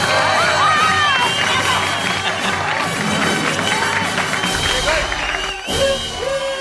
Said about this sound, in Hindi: भाई सोनू के लिए एक बार जोरदार ताली।